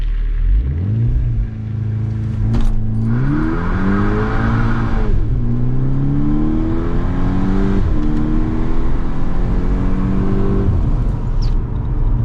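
A 235 hp VW Golf 6 GTI Edition 35 accelerates hard to overtake, its engine climbing through the gears with rising revs and brief dips at each shift, loud and close from inside the car over a steady road rumble.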